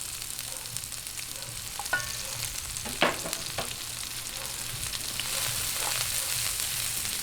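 Onions sautéing in a little oil in a pan for Kapampangan bringhe give a steady soft sizzle, with a few louder stirring scrapes and taps near the middle.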